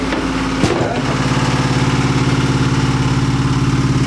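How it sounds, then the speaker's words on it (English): Loud, steady mechanical drone of a large engine running in the enclosed engine room of a 65-foot boat, with a brief clatter near the start. "Now I'm going to take you down into the engine room. It is going to be noisy"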